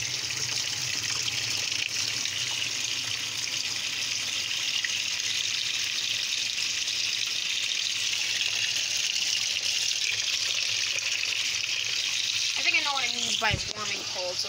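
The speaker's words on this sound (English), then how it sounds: "Let's fill the water. Right now it's cold." Cold water rushing into a 2012 Speed Queen washing machine makes a steady, even gushing hiss throughout, with a brief tonal squeak or chirp near the end.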